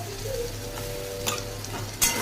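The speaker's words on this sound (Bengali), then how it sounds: "এবার একটু আদা রসুন পেস্ট দিলাম," Ginger garlic paste fries with onions and capsicum in a pan, giving a steady close sizzle with a few stirring scrapes and a sharper clatter near the end.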